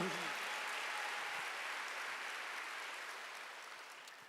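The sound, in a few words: congregation applauding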